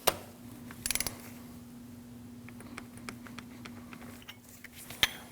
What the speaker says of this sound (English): And that gets torqued down to 16 foot-pounds.